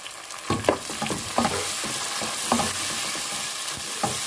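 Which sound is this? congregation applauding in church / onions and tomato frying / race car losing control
onions and tomato frying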